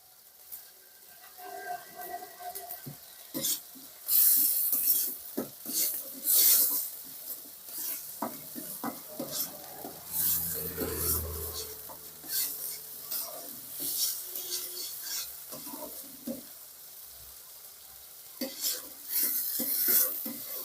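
A spice paste with chili powder is stirred and fried in oil, a soft sizzle beneath scraping spatula strokes against the pan, intermittent and close, with no voices.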